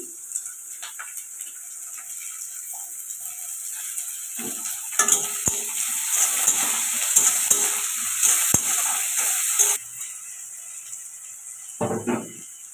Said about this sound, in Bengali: এটা হাফ ভাজা হয়েছে এতে আমি দিয়ে দিচ্ছি ক্যাপসিকাম